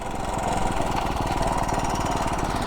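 Honda CT90 engine with an open-element airbox, ridden through a neighborhood: a steady, loud single-cylinder putter with fast regular pulses and airy intake roar, continuous and close throughout.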